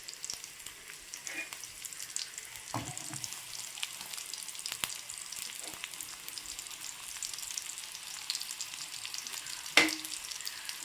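Chopped onions fry in hot oil in a home kitchen, a steady soft sizzle with occasional stirring scrapes and a sharp clank near the end, with no talking.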